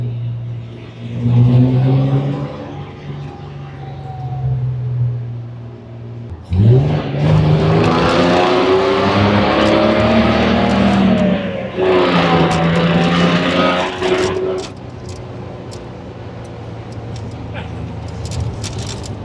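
A 1964 Austin Healey 3000 MK2 is driven with an engine drone that rises through revs, drops sharply at gear changes, then climbs again, heard from inside the car. Someone talks over the engine throughout.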